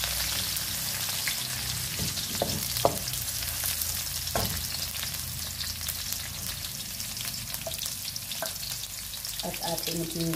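Onion fries in oil with a steady, close sizzle, broken by occasional stirring clicks and scrapes from a utensil.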